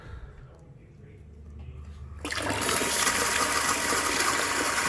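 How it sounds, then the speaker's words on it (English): Water from a tap turned on suddenly, starting as a broad rushing gush that jumps in loudness and then runs steadily and loud to the end, after a quieter low hum. "Let's turn the water on."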